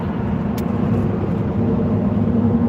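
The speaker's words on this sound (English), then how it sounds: "That's the diesel truck." A diesel truck engine rumbles steadily on the road at night, heard from inside a car as a constant low drone with road noise.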